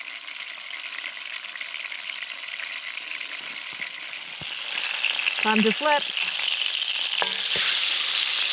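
Meat sizzles steadily in a hot wok on a wood stove inside a snowy winter teepee tent in Glen Affric, with a brief spoken remark and a louder burst of frying as the food is flipped.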